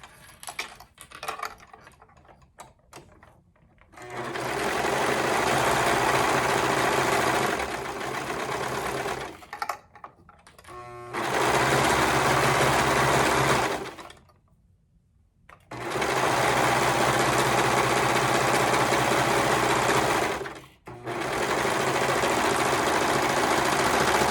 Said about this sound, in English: you are constructing your Fae on a regular sewing machine